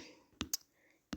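A few sharp keyboard clicks as a word is typed, three quick taps close by in a quiet room.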